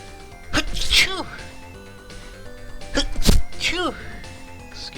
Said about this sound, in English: Can't stop myself from sneezing.